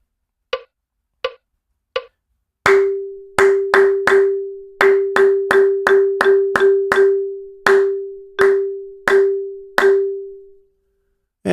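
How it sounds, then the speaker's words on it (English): Sharp single hand claps pick out simple eighth-note rhythms: three sparse claps open, then a steady run of evenly timed claps, each close, crisp and trailed by a brief ringing pitched tone, ending in silence. "All right, with some clapping."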